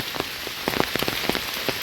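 Rain patters close by at a village fishing spot in Bangladesh, with irregular drops tapping sharply on a hard surface over a soft steady hiss.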